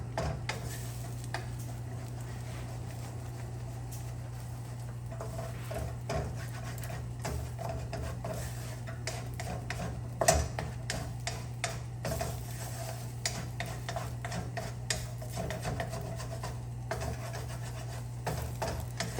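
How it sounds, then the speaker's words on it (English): Wooden spatula stirring scrambled eggs in a pan for fried rice, giving steady irregular scraping ticks and light taps over a soft, continuous sizzle, with no voice. "So you just keep moving them around, get them nicely scrambled."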